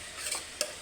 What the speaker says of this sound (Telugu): ఒకసారి కలిపేద్దాం.